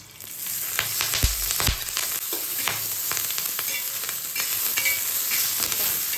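Green chilli and peanut thecha frying in oil in a pan, a steady close sizzle with scattered crackles and a few scraping stirs, loud and continuous without any voice.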